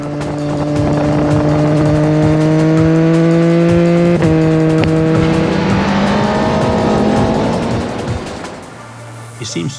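A race motorcycle on a track at a superbike riding school roars past close by, engine pitch climbing steadily through the gears before a shift and then fading away.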